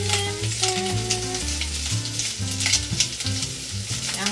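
Bacon fries in a pan, rendering its fat with a steady crackling sizzle, heard up close beneath prominent background music.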